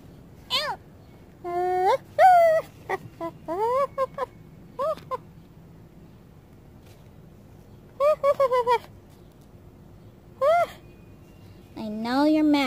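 A dog needing to go potty whimpers in a series of high, wavering whines and squeaky cries, some in quick bursts and others drawn out, with quiet gaps between them.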